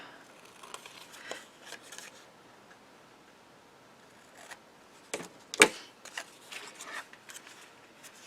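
Scissors trim a small piece of paper card for a mini slimline shaker card, making soft snips and rustles close by, one sharp cut standing out near the end, no voice heard.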